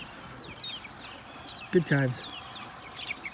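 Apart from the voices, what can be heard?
chickens clucking in a backyard coop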